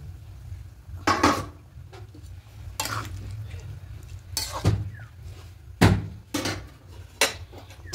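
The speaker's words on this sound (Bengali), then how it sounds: "এবার ভেজে রাখা কপিগুলো দিয়ে দেব" Fried cauliflower pieces go into a pan for a vegetarian potato-cauliflower dish, with a series of sharp metal utensil clanks and scrapes against the pan over a low background hum.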